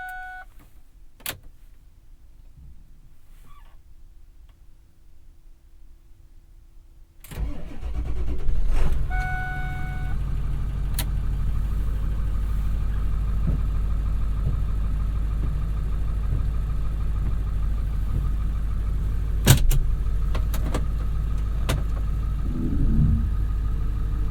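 Ford Super Duty with the 7.3 diesel engine cold-starting in the dark: a quiet pause, a brief crank, then the engine catches into a loud, steady diesel idle that rumbles on to the end.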